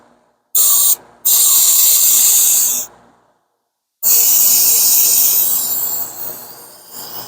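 Cleaner sprayed in long bursts onto an engine part surface of a 2011 BMW 135i, a loud close hiss of two short sprays followed by two longer continuous ones, the last fading out.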